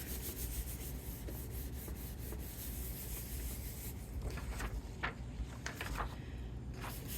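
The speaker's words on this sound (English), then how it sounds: "I like to just help these dry by burnishing off some of the moisture." Damp paper die cuts are burnished with a steady rubbing motion, a soft, faint scraping that repeats close by, with a few sharper strokes near the end.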